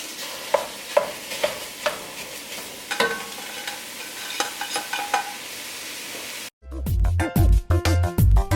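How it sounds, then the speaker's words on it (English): Ground beef and Portuguese sausage fry in a pan for Hawaiian chili, with a low sizzle under repeated sharp scrapes and taps as the meat is broken up, then loud music cuts in near the end. "Now we're going to add the ground beef and the Portuguese sausage. You want to break it up."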